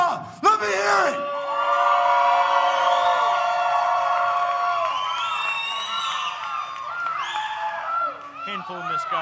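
A wrestling arena crowd in Louisville, Kentucky, erupts in loud, sustained cheering, yelling and whooping that swells after a brief pause and holds for several seconds before thinning into scattered shouts.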